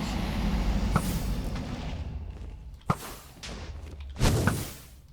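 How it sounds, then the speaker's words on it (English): In the Minecraft video game, an end crystal explodes amid game ambience: a sharp thud stands out, with a heavier, louder boom near the end over a low background rumble. "I hit him with the explosion from the crystal."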